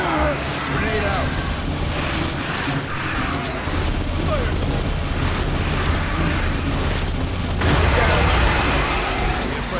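A grenade goes off in Aliens: Fireteam Elite amid a continuous roar of booms and gunfire, dense and loud for the whole stretch, with a heavier blast swelling late on.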